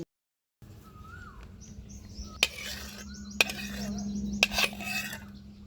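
Cooked egg is scooped from a pan onto a plate while making oil-free stir-fried cucumber with pork and egg: a few sharp metallic scrapes and clinks of a utensil against the pan, close, over faint background chirping and hum.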